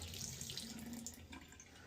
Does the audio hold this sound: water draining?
yes